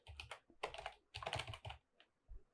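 Computer keyboard keys pressed while entering a command on Ubuntu to set up SSL/TLS for Apache, several close bursts of quick clicky typing, ending with a single separate keystroke.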